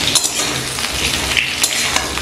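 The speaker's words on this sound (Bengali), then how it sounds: "এই একই সাথে আলুর সাথে ঝিঙেগুলো আমি এবার নাড়াচাড়া করে নিচ্ছি।" Ridge gourd and potatoes stir-fried together in a pan, with steady loud sizzling and quick scraping of the spatula running throughout, close and without talk.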